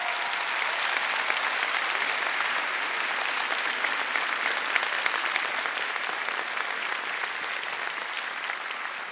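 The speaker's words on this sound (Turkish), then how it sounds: "Koca bir alkış alalım onlar için." Sustained applause from a large audience at a national folk dance competition in Turkey, a dense, even roar of clapping that stays loud and steady throughout.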